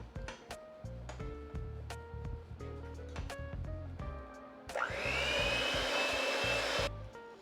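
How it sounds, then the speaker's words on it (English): Electric mixer beating cheesecake batter with flour worked in, switching on partway through as a loud steady whirring drone that follows a stretch of musical background and stops abruptly. "before I turn my mixer back on, I kind of work the flour into the batter"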